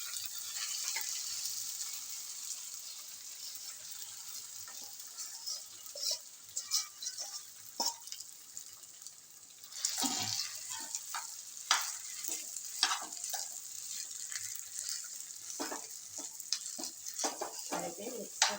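Potatoes are tipped into a pan of coarsely pounded ginger-chilli paste over low gas and mixed, giving a steady sizzle with repeated spoon scrapes and a louder rush as they go in, no talk.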